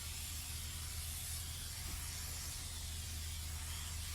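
Spray adhesive hisses steadily onto foil insulation and a van roof, a faint continuous aerosol spray heard up close with a low background hum and no talk.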